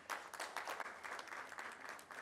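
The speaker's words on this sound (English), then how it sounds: "the biggest round of applause for the winner of the competition, Ms. Shripriya Ganesh and Imam Surve." Audience applause for the winners of a no-tobacco awareness competition at a celebrity event, a dense steady burst of many hands clapping that carries on for a couple of seconds at moderate distance.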